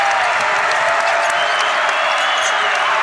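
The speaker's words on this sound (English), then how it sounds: "And this Carver crowd is on their feet, wanting a defensive stop by the Braves." A basketball crowd at Carver Arena roars and applauds steadily and loudly, a dense wash of cheering and clapping that holds at full volume throughout with no break.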